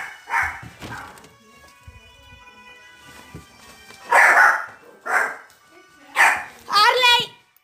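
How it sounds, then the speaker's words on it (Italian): A dog barks at a cat in short, sharp bursts, several barks spaced a second or so apart, fairly close, with a person talking faintly between them. "È il mio cane che sta abbaiando al gatto."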